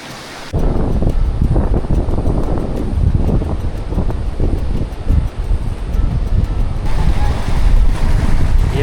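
Cold stream water rushing steadily past at Kala Chashma, a broad continuous roar with wind buffeting the microphone, loud and close throughout.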